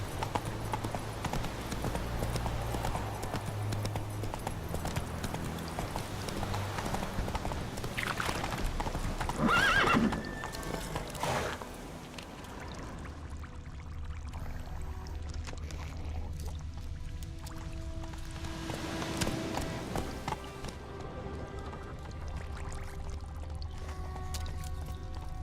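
Roach the horse's hooves clip-clop steadily in The Witcher 3 video game, with a loud whinny near the middle, then quieter hoof falls and ambient game sounds afterward.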